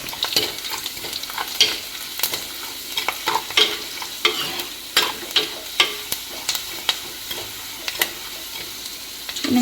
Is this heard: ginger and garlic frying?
yes